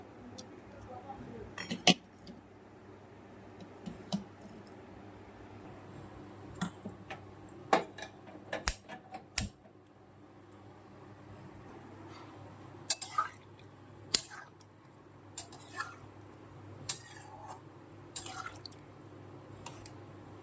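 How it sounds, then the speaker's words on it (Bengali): Eggs go into a pot of water to boil in a home kitchen, giving scattered sharp clinks, knocks and water drips spread irregularly over a low, steady background. "ডিমটা আগে সেদ্ধ বসাই।"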